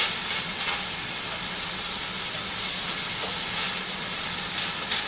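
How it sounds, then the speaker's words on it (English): Shredded cabbage stirred into a hot pan for moo shu pork gives a steady, close, broadband sizzle and hiss, with a few brief brighter crackles and no talking. "And then here is the cabbage. And we're going to stir that in, just like they say to do."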